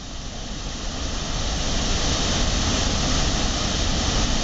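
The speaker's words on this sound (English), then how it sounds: "Here's the water rushing over the top of the dam." Water rushing over the top of a dam makes a dense, continuous roar that fills the whole stretch, loud and steady and slowly building a little, with no voices.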